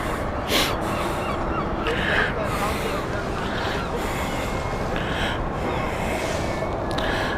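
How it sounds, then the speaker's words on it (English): A seagull calling over the River Thames near London City Airport, several short cries at intervals against loud, constant wind and outdoor noise, with a person speaking. "That's just a seagull who's got lost at the Thames."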